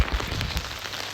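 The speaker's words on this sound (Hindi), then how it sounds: "बैंगलोर में भरी बारिश में यूं भागना" Heavy rain pours down in Bangalore, a dense close hiss of drops with a few heavier low thumps at the start, no voices.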